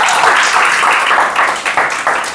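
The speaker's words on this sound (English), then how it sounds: "Once again, a big round of applause for them." Audience applause from a group during a spoken English training session, a steady wash of clapping that holds for a couple of seconds and then thins toward the end.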